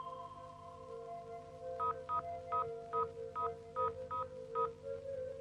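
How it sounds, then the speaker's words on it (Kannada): A telephone number is keyed in with about eight evenly spaced DTMF tones, each a short clear beep, played over a quiet hum of steady tones in an indoor film scene, with nobody talking. "ನೀವು ಮೊದ್ಲು ಆ ರಘುರಾಮ್ಗೆ ಫೋನ್ ಮಾಡ್ಕೊಡ್ರಿ."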